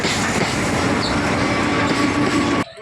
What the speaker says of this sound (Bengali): কত সুন্দর ট্রেন যাচ্ছে এখান দিয়ে